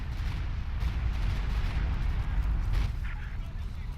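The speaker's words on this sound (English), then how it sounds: "here we got the Stuka barrage coming in" A Stuka dive-bomber barrage in a WWII strategy game set at Caen, heard as a continuous heavy rumble of booms and explosions, loud and dense, easing slightly near the end with a voice faintly underneath.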